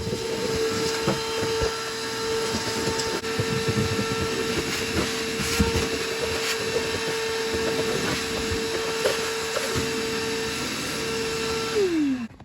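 A loud, steady vacuum cleaner motor drone with a constant whine runs unbroken for about twelve seconds while cleaning a car, then cuts off abruptly at the end.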